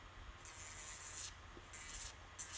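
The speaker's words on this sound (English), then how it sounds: "I'm going to use the mini mandrel with an arbor band" A rotary tool fitted with a mini mandrel and arbor sanding band grinds glue off a surface, giving quiet, breathy abrasive bursts in several uneven passes with brief pauses between them.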